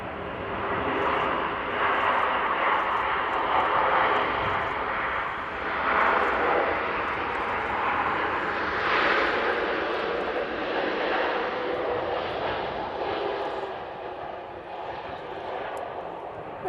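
A Saudia airliner departing Manchester Airport produces a long, steady jet roar that swells and holds, loud and sustained, with distant wind-like rumble and no clear talking.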